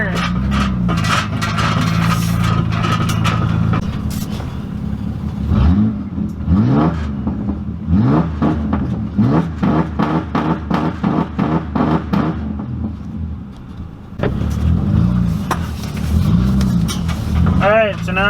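A Ford Ranger rock bouncer truck engine idles, then revs repeatedly as the truck drives off, loud and close with a rising and falling whine, while someone talks over it at times.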